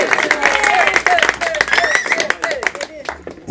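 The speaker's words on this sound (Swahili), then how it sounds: "Makofi." Audience clapping and cheering at the finals of a Mr & Mrs pageant, a dense, steady burst of applause from a crowd with whistles and chatter mixed in throughout.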